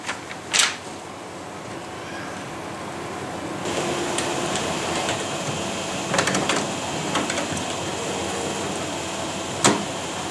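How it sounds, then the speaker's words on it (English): An HP Officejet Pro 3620 printer runs a print job with a steady mechanical whir, broken by occasional clicks and short sharp clacks near the start and end, close and moderately loud with no talking. "The printout will take some time."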